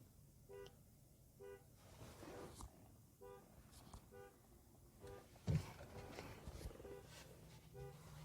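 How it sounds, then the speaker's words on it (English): Someone's car alarm going off outside, a repeating pulsed electronic tone pattern cycling in regular bursts, fairly distant and faint, under occasional close talking. "Somebody's car alarm's going off."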